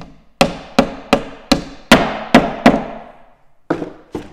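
A hammer driving a wall anchor flush into a wall, seven sharp resonant knocks in quick succession, then a short pause and two softer taps, close and loud with no talking.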